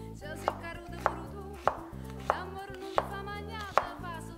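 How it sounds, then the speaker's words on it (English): Steady knife chopping of an onion on a cutting board, about seven crisp, evenly spaced chops, near and clear with no talk, while a home cook prepares chicken cacciatore for two. "What I do, I cut the onion."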